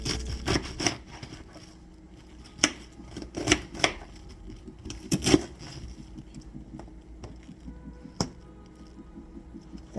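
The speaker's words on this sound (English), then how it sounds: "I will cut like this size and then cut this in half." Knife chopping a cabbage head on a cutting board for soup: irregular sharp chops, some in quick clusters, close and fairly loud, with no talking.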